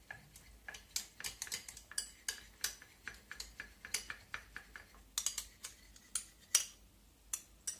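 A small spoon stirring a face mask mixture with coconut oil in a bowl, quick soft clinks and taps in an uneven rhythm, close and quiet, with no voices.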